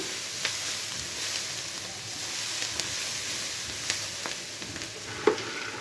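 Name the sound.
pasta and onions frying in a pan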